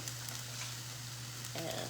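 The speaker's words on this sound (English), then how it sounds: "So here I'm adding my jalapeno and onion. I have about a tablespoon of oil in the pan warmed up." Chopped jalapeno and onion hit a tablespoon of warmed oil in a pan, giving a steady close sizzle that swells louder near the end as they settle in.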